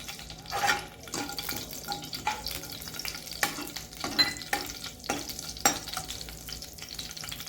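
Cumin seeds sizzle and crackle in hot oil in a kadai, a close, steady frying hiss broken by sharp popping bursts that recur every second or so, with no voices.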